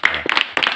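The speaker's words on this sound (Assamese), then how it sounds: "সুন্দৰ, হাত চাপৰি দিয়া বোলে।" A small audience claps hands in short bursts, with a brief pause midway through. The clapping is near and fairly loud, coming after a talk about a child who lost her mother.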